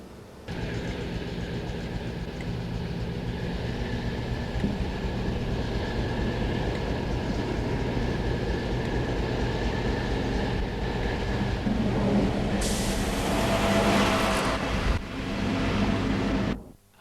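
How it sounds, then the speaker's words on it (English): A train of empty MGR coal wagons rolls past at steady speed, a continuous loud rumble of wheels and wagons with a brighter hissing rush near the end before it fades out. "a train of empty MGR wagons heads back to Worksop Yard"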